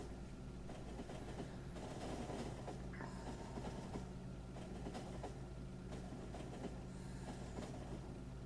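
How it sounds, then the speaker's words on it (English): An iron freight train in the Factorio video game rolls into a station, a faint steady rumble of wheels and cars with soft clatter and occasional squeaks running throughout. "First iron train arriving."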